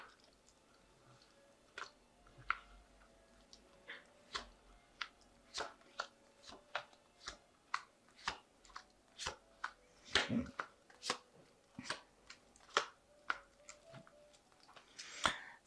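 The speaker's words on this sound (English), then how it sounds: "this is the Ellen Dugan Tarot, and I'm just going to draw some cards from it" Tarot cards from an Ellen Dugan deck are shuffled and drawn close by, making a string of quick, crisp card flicks and soft taps at irregular intervals, some louder snaps among quieter rustles, with no talk.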